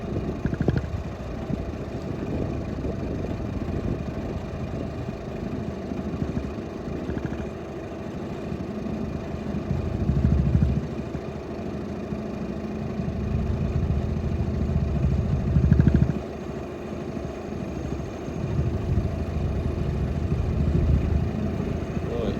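A narrowboat's engine chugs steadily at idle for a long stretch, with low throbbing swells rising now and then, and no talking.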